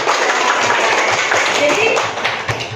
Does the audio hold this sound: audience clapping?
yes